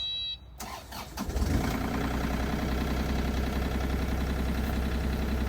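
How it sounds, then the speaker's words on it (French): A construction site machine's diesel engine cranks after a short click, catches and settles into a steady, close idle that drones on to the end. "là je vais démarrer"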